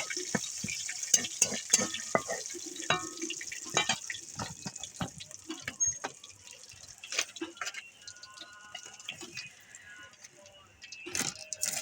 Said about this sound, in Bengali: সাদা জিরে দেব, দুটো শুকনো লঙ্কা দিয়ে দিলাম, তেজপাতা দিয়ে দিলাম। একটু নাড়াচাড়া করে নিই।